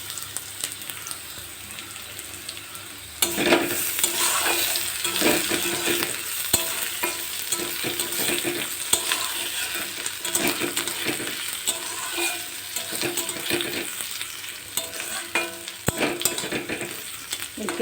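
Potatoes and crushed garlic fry in a pan, a steady close sizzle with spatula scrapes and stirring clatter, starting quieter and growing louder after a few seconds, no talking.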